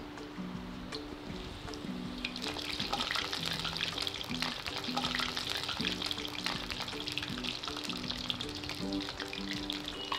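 Vada fritters sizzle steadily in hot oil over a half-lowered flame, a dense continuous frying hiss with crackling bursts, close and even throughout with no talking.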